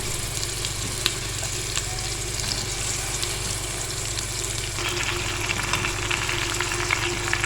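About 1.5 kilograms of mixed chicken pieces hit a hot pan for Mughlai chicken handi, setting off a steady, close, continuous sizzle with faint crackles and no talking.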